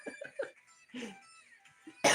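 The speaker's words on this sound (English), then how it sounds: "I'm going to end the live so I can cough like an old hag" A woman coughs in several short, close bursts with quieter breaths in between, and a louder harsh burst at the very end.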